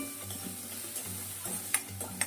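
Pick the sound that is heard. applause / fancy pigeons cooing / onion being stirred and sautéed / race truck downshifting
onion being stirred and sautéed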